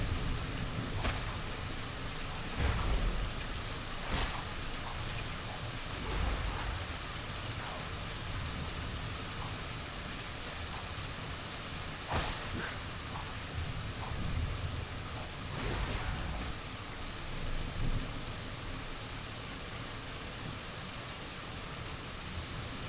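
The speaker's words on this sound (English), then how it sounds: "been a long time since I've heard of lightning like that" Thunderstorm in Baldur's Gate Dark Alliance on PS2, a steady hiss of heavy rain with several rolling thunder cracks and rumbles at irregular intervals, sustained and alone without talk.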